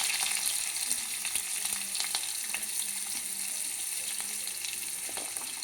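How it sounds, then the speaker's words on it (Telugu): Onions and green chillies fry in a pan with a steady, bright sizzle and crackle that holds from start to end, broken now and then by faint stirring scrapes and small pops. "ముందుగా ఉల్లిపాయలు పచ్చిమిరపకాయలు వేసుకుంటున్నాను."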